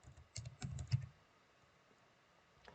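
Keys are typed on a computer keyboard in a short, quick burst of soft clicks, followed by near silence and a single faint tap at the end.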